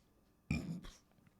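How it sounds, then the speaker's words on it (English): A single short burp right up close to a microphone, loud and abrupt, lasting about half a second with a throaty rumble, then quiet room tone. "I shouldn't have burped in the mic"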